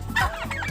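A turkey gives a single short, gobbling cluck-like call up close, lasting under a second.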